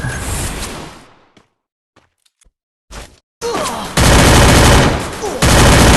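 Gunfire in the video game Free Fire: a loud burst of shots, then near silence with a few faint clicks, then sustained heavy rapid-fire bursts that fill the rest of the clip.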